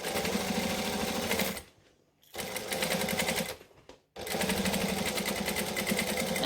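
Sewing machine stitching a saddlebag seam in steady, close bursts, stopping twice briefly as the fabric is adjusted before running again at a constant pace.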